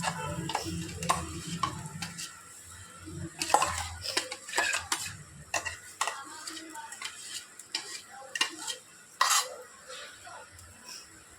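A metal spoon stirs spinach paste into masala in a pan for palak paneer, giving irregular close clinks and scrapes against the pan over a faint sizzle, with short gaps between strokes.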